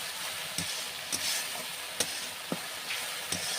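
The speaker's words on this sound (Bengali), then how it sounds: "মশলাটাকে খুব ভালো করে কষিয়ে নিতে হবে যতক্ষণ না পর্যন্ত মশলার থেকে তেল ছাড়ছে" Spice masala frying in oil for a sating fish curry, a faint hissing sizzle broken by about six sharp scrapes or taps of a spoon against the pan.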